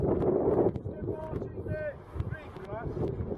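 Wind blows outdoors during a metal detecting outing in a UK field and buffets the microphone with low rumbling gusts, strongest at the start. Someone talks over it throughout.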